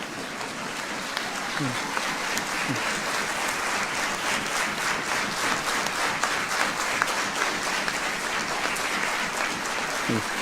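An audience in a parliament chamber claps from every side, a loud, sustained roar of applause lasting about ten seconds, with scattered voices mixed into the crowd noise.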